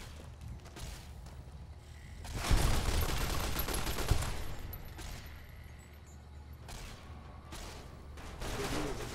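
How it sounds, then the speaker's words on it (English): Weapons firing in the video game Fallout New Vegas, a dense burst of rapid gunfire and impacts building to a loud peak then easing, followed by scattered mechanical clicks, with faint voices in between. "Firing weapons."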